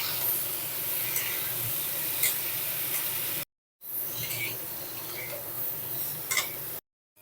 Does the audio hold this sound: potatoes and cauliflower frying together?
yes